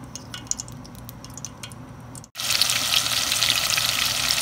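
Cumin seeds and onion dropped into hot oil in a pan for a mrigel fish curry, a quiet simmer giving way to a loud, steady crackling sizzle that fills the rest of the stretch.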